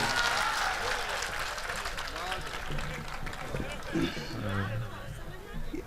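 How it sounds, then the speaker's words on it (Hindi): Audience at an outdoor comic poetry recital in Badagaon, Chandauli, breaking into hearty applause and cheering, loud clapping mixed with crowd chatter and shouts across the whole stretch. "एक बार जोरदार ताली बंधु जी के लिए।"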